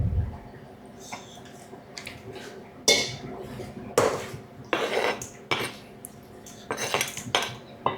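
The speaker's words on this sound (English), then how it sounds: "Watch where my knife is, my fingers, and I'm cutting these into quarters." A knife cuts vegetables into quarters on a board, giving a series of sharp, irregular chopping knocks and clatters at close range, with quiet pauses between strokes.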